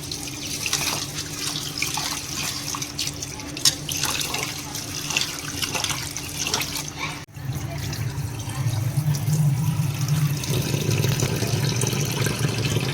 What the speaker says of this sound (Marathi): चला तर आता तांदूळ धुवून घेते